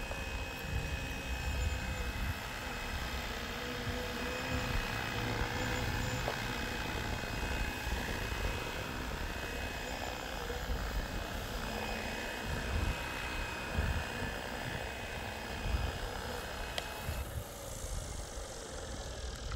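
A UH-1N helicopter comes in to land, its engine and rotor noise forming a steady, loud, continuous roar that runs throughout with no voices.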